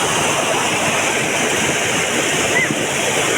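Floodwater rushes through a gully in Dholani village after a heavy downpour, a loud, steady roar of churning water that never lets up, close and dense with no voices over it.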